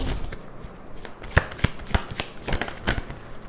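Tarot cards shuffled and drawn by hand during a reading, a run of soft riffling with a few sharper slaps as cards land, close and fairly quiet with no talk.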